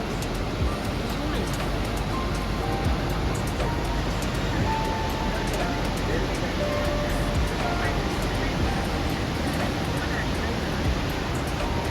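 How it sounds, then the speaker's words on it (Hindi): Dabosa waterfall roars as a steady, broadband rush of falling water, loud and continuous throughout with no breaks, heard from nearby. "हम लोग ऐसे चेकआउट करके ऐसे दाबोसा वाटरफॉल देखने आए"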